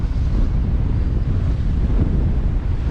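Steady, loud wind roars across the microphone on a sailing yacht at sea heading toward Antarctica, a dense low rumble with a wash of waves underneath and no voices.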